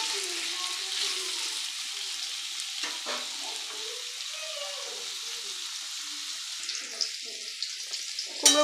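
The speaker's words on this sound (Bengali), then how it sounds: "কুমড়োগুলোও প্রায় ভাজা আমাদের হয়ে গিয়েছে।" Pumpkin pieces fry in hot oil after taro, giving a steady, close sizzle with occasional stirring scrapes and a few louder clinks near the end.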